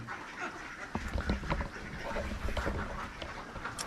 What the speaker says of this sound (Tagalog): so ayan po yung ating mga itik